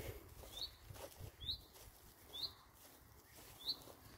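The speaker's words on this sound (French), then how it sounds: "Un oiseau qui chante, ça s'entend." Faint, short bird chirps on a family farm, four evenly spaced high notes about a second apart over quiet outdoor background rustle.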